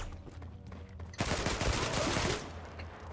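Gunfire in the video game Zula: a sudden sustained burst of rapid automatic shots starts after a quiet stretch, loud and dense for about a second, then fades back to low background.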